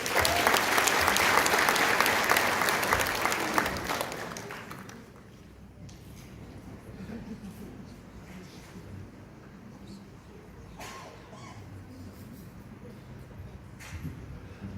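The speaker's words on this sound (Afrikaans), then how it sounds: "Kom ons gee vir hulle 'n hande klap." Church congregation applauding in welcome, a dense burst of clapping from many hands for about five seconds that dies away into quiet room noise with faint shuffles.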